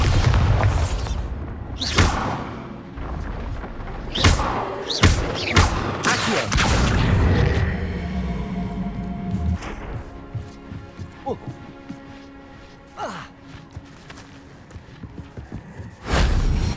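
Bombarda spell explosions in the video game Hogwarts Legacy, several loud booming blasts and thuds spread across the clip over game music, with a character speaking in between.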